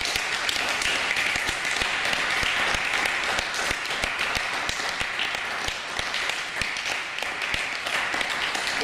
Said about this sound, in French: Est-ce que tu peux applaudir pour le Seigneur?